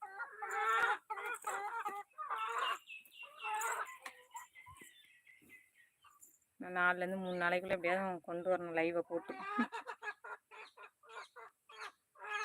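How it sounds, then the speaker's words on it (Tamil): A chicken clucks and cackles in repeated bursts, loud and close, with a strong run of calls in the middle, while someone talks in between. "எப்படி கற்றுது பாருங்க அந்த கோழி."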